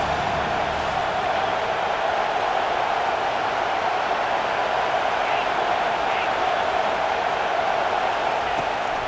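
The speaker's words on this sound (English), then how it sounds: "Decibels rising as the crowd gets behind this defense on third down." A packed stadium crowd roars on third down in College Football 25, a steady dense wall of cheering noise that holds at a constant loud level throughout with no break.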